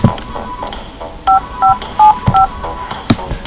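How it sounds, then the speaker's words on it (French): Telephone keypad tones as a number is dialed, about five evenly spaced short beeps over a noisy room background with a few thumps. "je vais appeler David"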